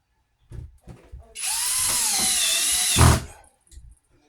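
A cordless drill drives a short screw into a ceiling mounting bracket for a hard-wired interconnected smoke detector: one steady high whine lasting about two seconds, ending in a thunk as the screw seats, with light handling clicks before and after.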